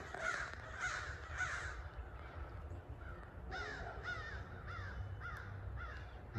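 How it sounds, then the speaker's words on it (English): Several crows caw excitedly at a hawk perched on a branch along a greenbelt in Kingsport, Tennessee. Their harsh calls come in rapid groups of three to five, fairly close and clear over faint background noise. "Got all these crows going crazy."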